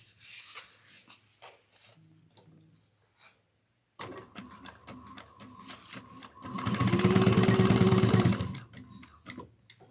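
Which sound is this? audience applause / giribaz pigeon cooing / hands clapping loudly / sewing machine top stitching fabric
sewing machine top stitching fabric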